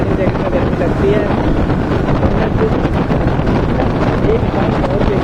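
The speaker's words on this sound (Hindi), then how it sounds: "ठंडी ठंडी हवा लग रही है।" Steady, loud wind buffets the microphone while riding a motorcycle on a solo Sunday ride near Delhi, a constant roar throughout with no clear speech on top.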